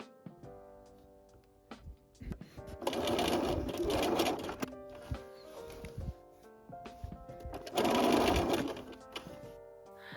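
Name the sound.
sewing machine basting a tote bag strap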